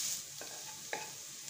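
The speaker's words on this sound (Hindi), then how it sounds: "एकदम बारीक कटा हुआ प्याज। इसे हम सुनहरा होने तक भून लेते हैं।" Finely chopped onion frying in a pan until golden, a soft, steady close sizzle with two brief stirring scrapes and no voices.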